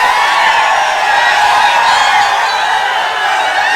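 A large crowd at a Dharashiv political rally for Uddhav Thackeray and Omraje keeps up a steady, dense roar of cheering. The sound holds at an even level with no clear individual voices.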